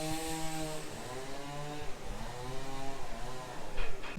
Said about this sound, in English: I don't know if you can hear me with the chainsaws going